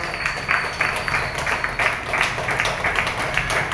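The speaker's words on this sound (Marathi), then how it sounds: "चला ते जोरदार टाळ्या वाजवा" An audience at a health massage therapy event in Baramati claps for a few seconds, a dense, close patter of many hands with no voices over it.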